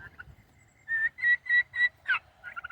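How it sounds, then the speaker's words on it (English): Turkeys gobble in a quick run of five or six rhythmic, warbling calls, fairly close, with short pauses between bursts. "I came outside and the turkeys think it's breakfast time."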